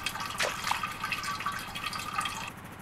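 Water running and dripping from a sink in the survival video game No One Survived, a steady close trickle with small splashes and drips for a few seconds before it cuts off.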